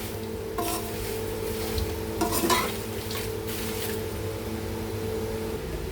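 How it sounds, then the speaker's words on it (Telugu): Curry leaves frying in oil for curry leaf powder, with a steady sizzle running throughout and a few louder scraping and stirring bursts near the start and middle; no one speaks. "ఇది కూడా నూనెలో కొద్దిగా బాగా మగ్గిద్ది అనమాట కరేపాకు"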